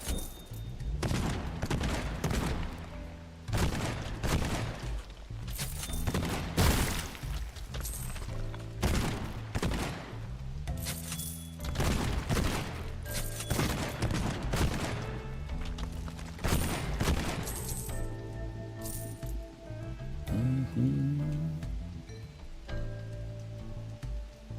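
Gunfire rattles from a rapid-fire weapon in the video game Borderlands 2, dense bursts of shots running almost continuously with game effects layered beneath.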